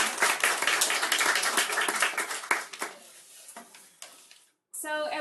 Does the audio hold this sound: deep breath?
no